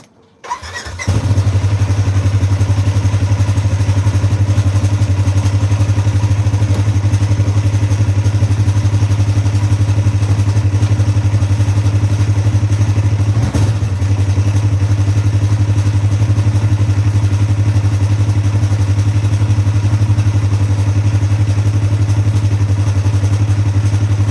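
A Polaris RZR XP1000 side-by-side engine cranks and fires almost immediately, then settles into a loud, steady, close idle for the rest of the clip.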